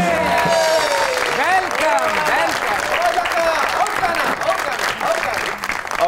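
A studio audience on a comedy talk show applauds a guest, loud sustained clapping with music and an announcer-style voice running over it.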